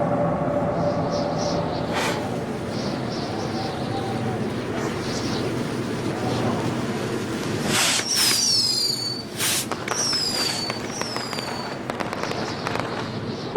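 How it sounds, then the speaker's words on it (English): Video game fireworks bursting and crackling, with sharp bangs and whistling streaks near the middle, over a constant dense background rumble and hiss, with a brief voice at the very start. "we'll get to see some cool fireworks."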